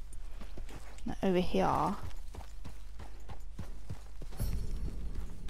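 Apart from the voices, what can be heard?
horse hooves clip-clopping, from a video game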